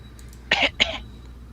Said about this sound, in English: turn to the left and cough